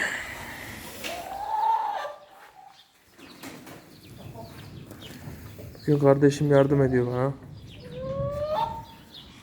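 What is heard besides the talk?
chickens in a coop during egg collection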